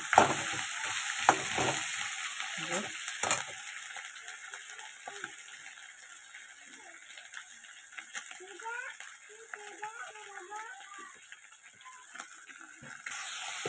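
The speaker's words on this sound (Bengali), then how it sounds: "মাথাটা ভালো করে ভেজে নিচ্ছি, একটু ভেঙে নিচ্ছি, ভেজে নিচ্ছি মাথাটাকে" A fish head fries in a pan, its sizzle steady beneath a person talking, with clatters and scraping as it is stirred and broken up, louder at the start.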